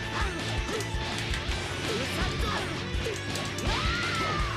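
Heavy attack in Dragon Ball FighterZ slamming a character down to the ground, a loud crash standing out over dense, continuous game music and effects.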